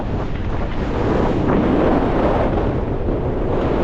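Strong wind of around 30 mph with 35 mph gusts buffets the microphone in a constant, heavy roar with surging gusts on a winter mountainside in the Lake District, no voices present.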